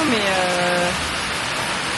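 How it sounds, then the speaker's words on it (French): Steady rain falls on Koh Samui, Thailand, making a constant close hiss throughout while a voice speaks briefly over it at the start. "Et la pluie."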